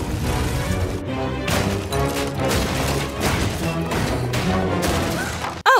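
A cartoon pony, Babs Seed from My Little Pony's One Bad Apple, wrecks a parade float in a loud, dense run of crashing and smashing under a busy soundtrack, ending in a sharp final hit.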